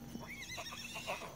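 A horse whinnies in a long, shaky neigh with faint hoof clip-clop underneath, heard at moderate distance with a bit of background noise.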